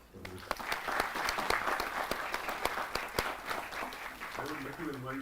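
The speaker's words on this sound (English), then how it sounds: "I would really like to give a round of applause for this." A crowd at a design institute talk applauds steadily, many hands clapping together in a dense, sustained burst that carries on for several seconds.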